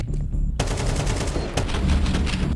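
Rapid bursts of rifle gunfire from a Counter-Strike match at a professional esports tournament, with repeated loud shots and a dense, overlapping burst of fire.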